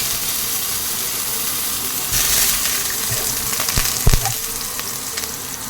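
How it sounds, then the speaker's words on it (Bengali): Boiled potatoes fry in hot oil for hilsa biryani, a continuous loud sizzle and crackle with a sudden surge of hissing midway and a few clunks of stirring. "এবার একটু ভালো করে ভাজবো তেলের উপর।"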